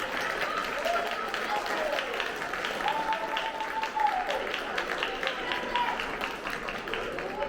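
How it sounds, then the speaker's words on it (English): Steady applause from a crowd fills the whole stretch, continuous and fairly loud, with faint voices mixed in. "Let's give these guys a big round of applause."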